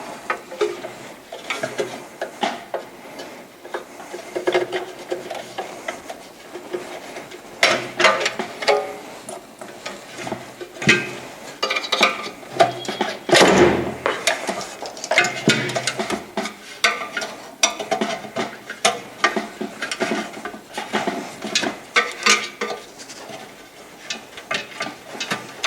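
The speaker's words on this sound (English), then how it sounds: "The easiest way is to use a flat blade screwdriver, get under the clip, and work it right off there" Flat blade screwdriver prying metal clips off the mounting flange of a Hyundai Santa Fe blower assembly, with scattered clicks, scrapes and sharp snaps, one louder pop partway through, close and irregular.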